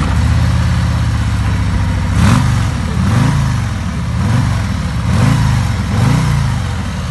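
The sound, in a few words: motorbikes and heavy bikes being ridden at an expo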